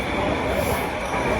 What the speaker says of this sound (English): This is the first time in 30 years this train has been on.